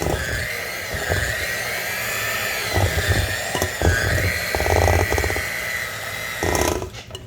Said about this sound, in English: turning the mixer back on